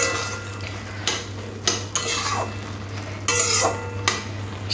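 A spatula stirs and scrapes boiled potatoes and kalmi greens in a pot, making several distinct clattering bursts at irregular intervals over a steady low kitchen hum.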